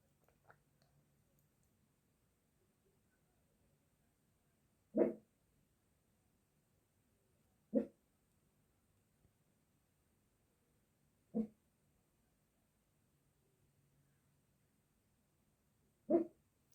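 Four brief, sharp fox squeaks ring out a few seconds apart in a quiet night near a house, faint and somewhat distant.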